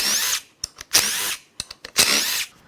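Impact or power tool on an Audi e-tron / Volkswagen ID.4 drive motor unit, removing bolts: two long, loud whirring bursts with short rattling blips between, close up and with no talk.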